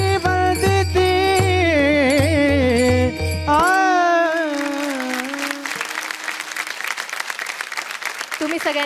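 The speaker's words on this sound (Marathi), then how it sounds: "तुम्ही सगळ्यांनी टाळ्या वाजवल्या म्हणून सांगते." A kirtan audience breaks into sustained applause. It follows a sung, chanted passage that fades out, then the claps carry on as a dense crackle under a voice speaking.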